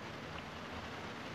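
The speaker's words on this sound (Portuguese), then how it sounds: "Tá chovendo no jogo." Steady, even hiss of rain falling in the video game GTA San Andreas, a continuous soft wash with no breaks and no voices.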